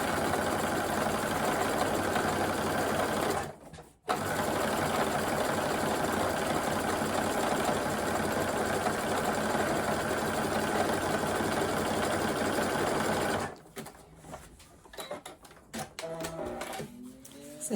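Sewing machine running steadily while zigzag stitching along the raw edge of fabric, a continuous close, fairly loud mechanical hum with one brief stop early on and a choppier, uneven stretch toward the end.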